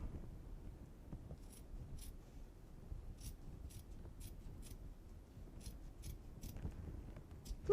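Scissors trimming fabric for a two-bottle wine tote, a series of quiet, crisp snips spaced irregularly over a low room hum, with no voices.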